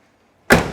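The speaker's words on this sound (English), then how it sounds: "Door's shut real nice, real solid." Door of a 1966 Chevrolet Chevelle SS big-block four-speed shut once with a single solid, close thud after a moment of silence.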